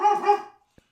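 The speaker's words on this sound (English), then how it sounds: "That's my dog." A dog gives one loud, close bark that quickly fades, followed by a brief faint tick.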